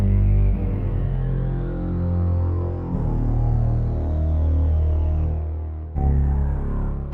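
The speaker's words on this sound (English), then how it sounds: "This is just like a synth brass." A sustained synth brass chord loop drones loud and steady, with a rising and falling sweep and a brief cut before it restarts.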